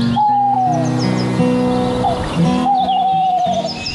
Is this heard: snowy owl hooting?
yes